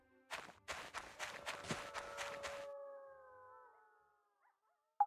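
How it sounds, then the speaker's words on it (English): Wolves howl in My Time at Portia, preceded by a burst of quick thumping steps, then long drawn-out howls that fade away, ending with a brief sharp tone. "Oh, I can just hear wolves howling."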